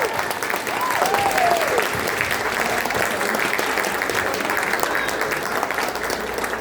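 Audience at a fan convention panel breaks into steady, sustained applause for guest actors, dense clapping from a crowd in a hall that holds evenly for several seconds with a few faint voices mixed in.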